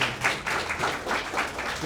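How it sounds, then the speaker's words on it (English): Audience applause closing a panel session at a GeeksforGeeks talk, with clapping spread through a short burst, moderately close, and a voice partly heard over it. "applause for our panel today"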